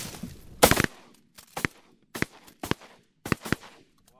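Shotgun blasts during a duck hunt in North Dakota: five loud, sharp reports fired in quick succession, roughly every half second, close to the microphone.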